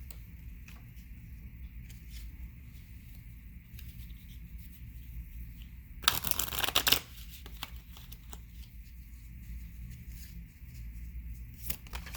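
Romance cards shuffled briefly in one close, crisp riffling burst lasting about a second in an otherwise quiet room.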